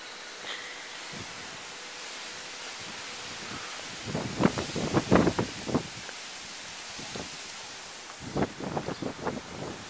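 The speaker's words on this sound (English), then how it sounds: "what's left is the occasional strong wind gusts" Gusty wind after Hurricane Irene roars over the microphone on a New York City street in bursts, rising and falling, with rustling in between and a steady background hiss.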